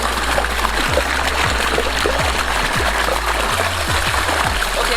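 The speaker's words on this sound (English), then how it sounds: "You can see the water flow." Water runs through a homemade auto-watering siphon hose, a close, steady trickling stream broken by soft low gurgling pulses, with no one talking.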